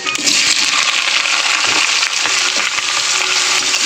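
Beans, potato and eggplant hit hot oil with five-spice tempering in a wok, giving a loud, dense and continuous sizzle up close, with faint stirring scrapes underneath.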